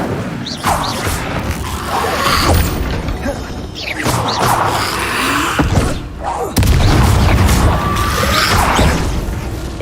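Incendio fire spell cast repeatedly in Hogwarts Legacy, producing several loud whooshing bursts and crashing impacts at intervals amid game effects.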